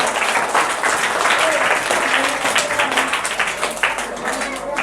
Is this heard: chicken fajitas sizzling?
no